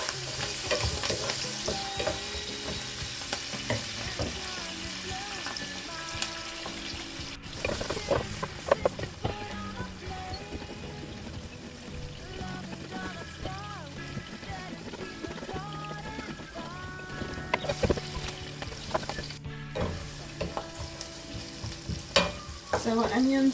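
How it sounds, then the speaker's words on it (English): Onion, thyme and curry leaf sizzling in a pot for a lamb and cabbage curry, constant frying crackle with repeated spoon stirring and scraping, close and fairly loud, no talking. "So our onions is cooking nicely and it's lightly brown."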